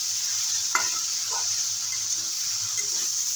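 Taro stolons with small bata fish and green chillies sauté in a pan, giving a continuous bright sizzle with a few scraping stirs of a spatula across a short stretch, close and clear, with no talking.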